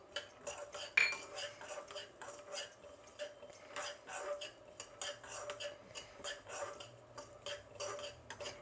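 Peanuts, sesame and fenugreek seeds dry roasting in a pan give light, irregular scraping and clinking of a spoon against metal, moderately close, with no talking.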